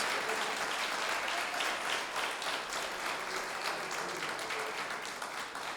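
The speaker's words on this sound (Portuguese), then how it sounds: "Dê a salva de palmas para o Senhor" A church congregation at a worship service bursts into steady, dense applause that holds at an even level throughout, with no voices on top.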